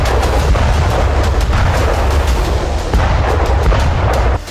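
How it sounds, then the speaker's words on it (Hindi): A rocket strike on an armored vehicle flying a US flag in a combat zone: loud, dense blast noise with repeated sharp cracks and rumbling booms throughout, sustained and close. "देखिए कैसे हूती लड़ाके अमेरिका के फ्लैग लगे आर्म व्हीकल को रॉकेट से उड़ा देते"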